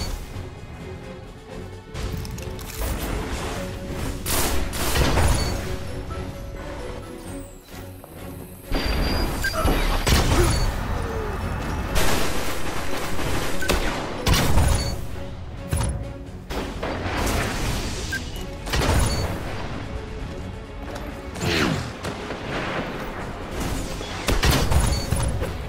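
Trip mine and flux grenade explosions in the video game Destiny, with repeated sharp blasts and crashing booms arriving at irregular intervals over continuous gameplay noise and weapon fire.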